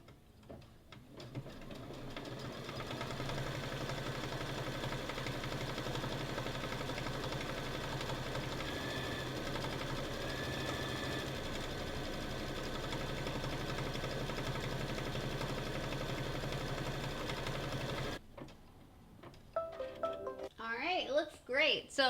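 An embroidery machine stitches a freestanding hot air balloon design with a steady, close mechanical ticking hum for most of the stretch, then stops, leaving quieter clicks and handling noise at the end.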